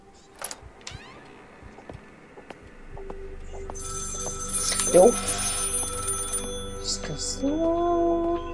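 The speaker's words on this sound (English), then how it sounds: "Ignoring a phone call of where you're not supposed to be" A telephone rings in the horror video game Maid of Sker, with repeated electronic ring tones rising over quiet ambience and footsteps, while someone talks across the ringing.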